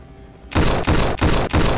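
Gunfire in the VR battle royale game Standout VR. After a quiet half second, loud, close automatic fire breaks out in rapid bursts, each separated by very short pauses.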